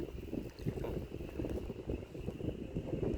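Outdoor wind rushes steadily across the microphone on a rural hunting property, a constant low rumbling buffet with no letup, loud and close.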